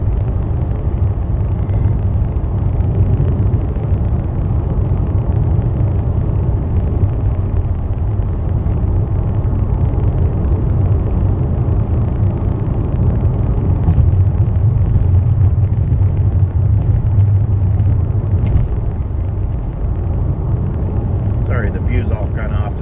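Steady low road rumble and engine hum fill the interior of a car driving in the Pacific Northwest, constant throughout, while a person talks over it.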